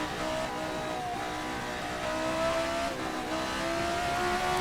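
A Formula 79 race car's engine in a racing video game revs hard and steady, a loud close drone with shifting pitch and faint tire squeal, no voices.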